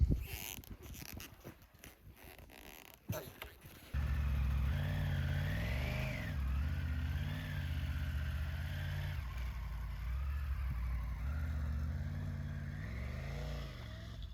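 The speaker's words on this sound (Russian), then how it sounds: "Попросила Пашу выехать на новом мотоцикле." A new motorcycle starts up and pulls away nearby, its engine note rising and steadying as it rides off over rough ground with tree roots, after a few seconds of quieter handling noise.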